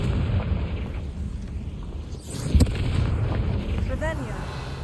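Confringo blasting spell in Hogwarts Legacy, a rumbling explosive burst with a sharp crack in the middle, amid ongoing low booming and a voice speaking.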